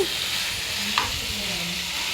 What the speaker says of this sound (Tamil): சேர்த்து அதையும் கிளறி விட்டுக்கலாம்.